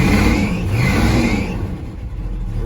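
A Chevrolet squarebody truck engine with an ignition problem runs and revs after being started, a loud, steady mid-pitched roar close by that rises and then settles slightly toward the end.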